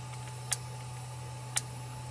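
Two faint, sharp clicks from the shutter speed dial of a DSLR camera, about a second apart, sound over a quiet background hum.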